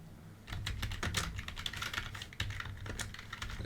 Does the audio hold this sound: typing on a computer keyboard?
yes